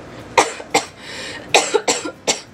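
Several coughs come up close, five or six sharp bursts spaced irregularly with short gaps between them, without any talk.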